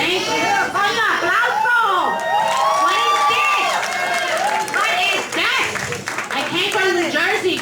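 At a live comedy club, the audience claps and cheers loudly and steadily, with whoops and shouts rising over the applause and a host's voice talking over it.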